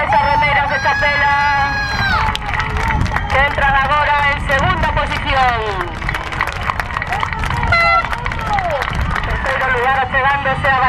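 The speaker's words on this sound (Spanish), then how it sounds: "Un aplauso para esas remeiras de Chapela," A crowd claps and cheers outdoors for women rowers at a traineirilla rowing final in Moaña, while a commentator talks loudly over the noise.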